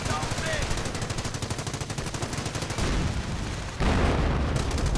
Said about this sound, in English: And sticky bomb goes off.